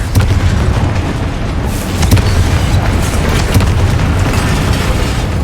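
The Confringo blasting spell explodes in the Hogwarts Legacy video game as a loud, sustained rumbling boom with several sharper bursts within it.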